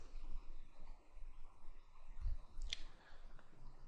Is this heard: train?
no